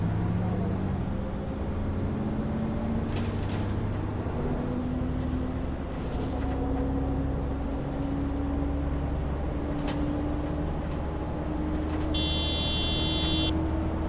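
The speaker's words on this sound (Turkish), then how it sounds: "Bu arabanın sesine aşık olursunuz ya." A steady bus engine drone in the OMSI 2 driving simulator slowly climbs in pitch as it accelerates, over road rumble with occasional electronic beeps and clicks.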